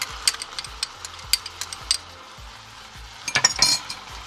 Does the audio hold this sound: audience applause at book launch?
no